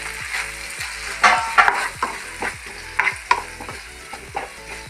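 Cornflour slurry being stirred into a spicy-sweet egg roast gravy in a pan, with a steady sizzle broken by repeated scraping spoon strokes and clinks at an irregular rhythm, close and moderately loud, no talking.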